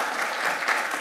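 A church congregation at a Sunday worship service applauds the Scouts, a short even burst of many hands clapping together, dense and steady.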